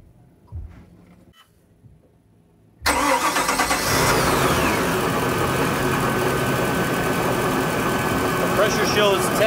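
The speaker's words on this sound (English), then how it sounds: "we're gonna start the motor" A Volvo Penta boat motor, hooked up for a fuel pump pressure test, cranks to life after a few seconds of quiet handling noises, then runs loud and steady at close range.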